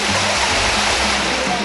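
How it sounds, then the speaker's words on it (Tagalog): Water rushes steadily over large rock formations at Cold Spring, a loud, continuous broadband roar close by with no pauses. "ganda ng tubig na lumalagaslas sa naglalakihang rock formations"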